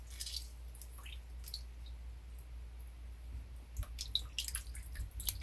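Peas are rubbed and rinsed in water, giving faint wet squishes, drips and small clicks scattered through the quiet, growing busier toward the end.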